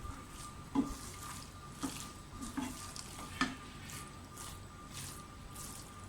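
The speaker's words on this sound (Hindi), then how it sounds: "सब चीज़ों को एक बार मिक्स कर लें।" Chicken and vegetable spaghetti with green onion is stirred in a pan, giving a soft sizzle under wet squishing and scraping stirs that come in irregular strokes. It is close but quiet, with no speech.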